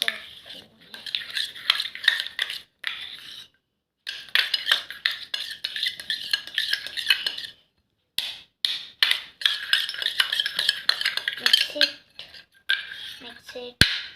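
Slime being stirred and mixed in a bowl, giving repeated wet, sticky clicking and squelching in bursts with short pauses, close and fairly loud.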